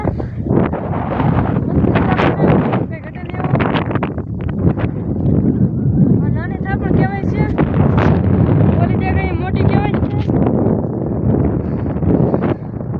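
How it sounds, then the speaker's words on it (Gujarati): Strong wind on the seashore roars across the microphone in steady, loud gusts for several seconds, with faint voices mixed in beneath it. "તો મિત્રો અમે પહોંચી ગયા છીએ પવન બહુ છે"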